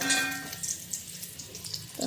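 Luchi, the puffed Bengali flatbread, frying in a pan of hot oil at home gives a soft, close crackle and sizzle with scattered light pops, fairly quiet throughout.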